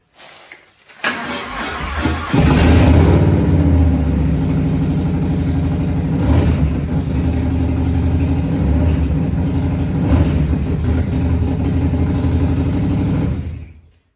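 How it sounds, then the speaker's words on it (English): A Harley-Davidson Low Rider S motorcycle cold-starts on a 20-degree snowy day, its starter cranking briefly before the engine catches and settles into a loud, loping idle that rumbles steadily up close for about ten seconds before cutting off. "I'll fire it up and let y'all hear this hog crank"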